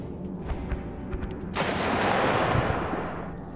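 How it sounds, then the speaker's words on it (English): A shot from a distant shooter in This War of Mine lands as a loud burst that swells into a broad, rumbling wash and slowly fades, heard over low game ambience. "Now with him shooting from all the way up there"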